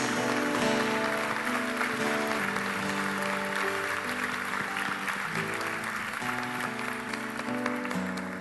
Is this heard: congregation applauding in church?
yes